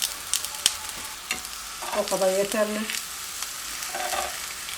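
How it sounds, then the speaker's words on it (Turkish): Eggplant slices fry in a little oil in a pan over fairly high heat, giving a close, continuous sizzle with a few sharper crackles and pops, while someone briefly speaks over it. "Çok fazla yağla kızartmayacağım."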